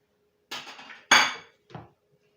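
A metal utensil knocks and scrapes against a pan while minced meat filling with parsley is mixed, giving three distinct clanking strokes, the middle one loudest, close and without speech.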